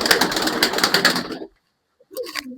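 Jacobin-type pigeons in a backyard loft in Bangalore give a bright, busy burst of fluttery cooing and rustling, then fall silent before a short low coo returns.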